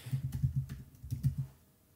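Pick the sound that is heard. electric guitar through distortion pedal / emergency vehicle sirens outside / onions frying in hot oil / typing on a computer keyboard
typing on a computer keyboard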